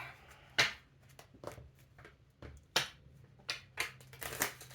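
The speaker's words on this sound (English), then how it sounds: "And I'm only shuffling once because these are tiny." Small oracle cards shuffled by hand, a series of soft, irregular papery riffles and taps close to the microphone in a quiet room.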